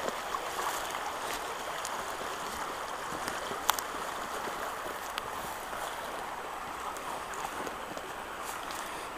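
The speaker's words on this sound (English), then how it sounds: "So this river kind of reminds me of that one, although that one was much larger, and didn't flow anywhere near as fast as this." A fast-flowing river between steep banks rushes continuously, a steady broadband wash of water with occasional small splashes and no talking.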